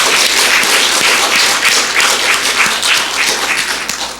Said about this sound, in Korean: 영광의 박수 한번 올려드립시다